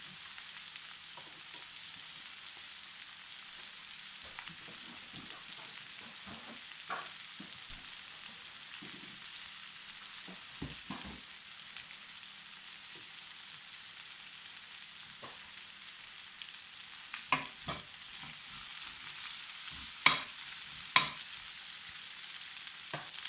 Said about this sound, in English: I'm going to add a bit of butter in the middle. Let it melt a bit.